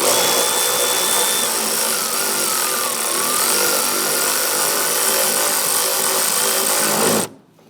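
A power driver snugging a bolt down on the oil filter housing of a 2011-2021 Jeep Grand Cherokee 3.6L, a loud close continuous whine lasting several seconds before stopping sharply.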